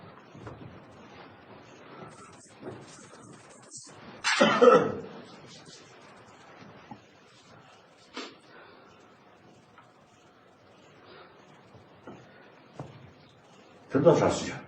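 A few coughs break through a quiet room, one sharper burst near the middle and another at the end, with faint murmuring around them.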